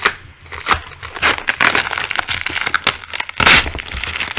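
Close, loud crinkling and crunching of plastic packaging around a piece of Nightmare Before Christmas art being pulled apart, continuous and scratchy, with a sharp rip toward the end.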